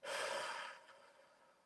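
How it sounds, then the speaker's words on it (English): A single long exhale through the mouth during a guided relaxation, soft and close, breathy and steady before tapering off, no speech. "Take another breath in. And breathe out."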